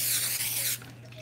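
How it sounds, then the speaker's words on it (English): A can of olive oil spray hisses in one steady burst lasting under a second, close and bright, then cuts off into quiet room noise. "I'm using olive oil spray."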